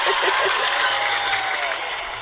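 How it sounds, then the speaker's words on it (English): Canned applause from a soundboard sound effect, a steady wash of clapping and faint crowd chatter at even loudness, slowly fading toward the end. "I'm gonna give you some applause for that because that would be beautiful"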